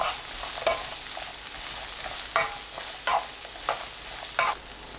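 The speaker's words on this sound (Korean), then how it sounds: "까리고추 넣고 1분 더 볶습니다." Shishito peppers and minced garlic stir-frying in a spoonful of cooking oil over medium-low heat, a steady close sizzle broken by several sharp scrapes of a spatula against the pan, with no voices.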